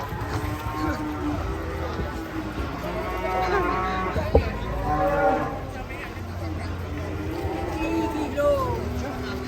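Cattle mooing outdoors, an agitated cow among them, with people talking and calling out nearby over a steady rumble.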